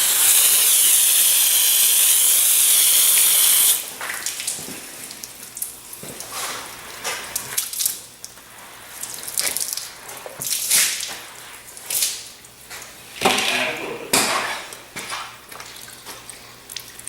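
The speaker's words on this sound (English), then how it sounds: "I'm going to give it a quick rinse to get all my neutralized acid out of the way." Water rinsing neutralized acid off a reinforced concrete coffee tabletop, a steady loud hiss of spray for the first few seconds, then uneven splashing and dripping bursts as the rinse continues.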